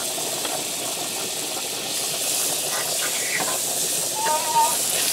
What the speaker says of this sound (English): my heat's off right now because this thing's smoking hot. But I'm gonna get my butter in here.